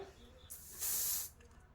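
A perfume spray bottle gives one short, bright hissing spray in the middle, close and fairly loud. It stands out against quiet room tone and faint background voice.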